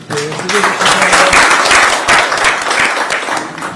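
Applause from a crowd at a political party committee meeting, a dense wash of clapping with voices mixed in underneath.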